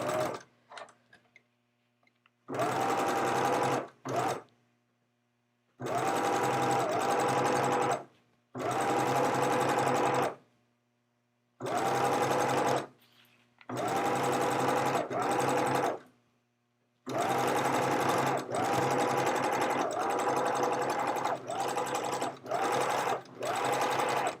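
A sewing machine runs in repeated bursts of fast, even stitching, each a few seconds long, separated by brief pauses, close and steady with no talking.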